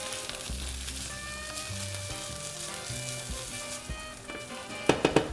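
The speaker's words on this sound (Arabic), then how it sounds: "احلى صوت لما اضيف الكزبره على التوم هذا الصوت الطشطشي" Garlic and coriander sizzle and crackle steadily in a hot pan, with a few sharper spits and pops near the end.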